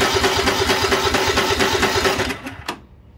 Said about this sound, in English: since it turns over okay, I can turn the key and it'll, but just get nothing out of it.